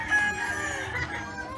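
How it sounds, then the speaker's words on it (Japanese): Chickens around a town street in Valenzuela, with a rooster crowing at moderate distance amid steady outdoor background noise. "めっちゃニワトリおるやん。"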